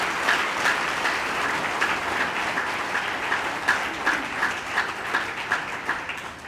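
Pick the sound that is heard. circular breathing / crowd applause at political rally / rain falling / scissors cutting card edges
crowd applause at political rally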